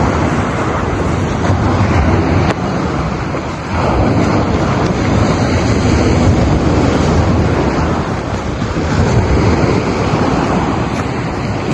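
Loud, constant roar of strong surf crashing nearby on a rocky Batangas City shore, with gusting wind buffeting the microphone throughout; no voices.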